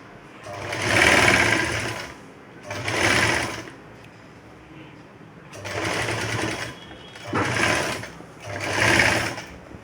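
A sewing machine stitches the neck strip onto a blouse in five loud bursts of whirring, each lasting a second or two and separated by short pauses, with no voices over it.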